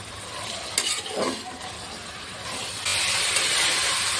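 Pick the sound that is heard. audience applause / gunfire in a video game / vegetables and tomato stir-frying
vegetables and tomato stir-frying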